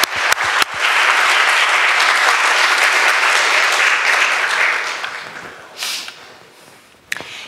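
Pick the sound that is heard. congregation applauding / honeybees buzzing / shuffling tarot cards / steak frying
congregation applauding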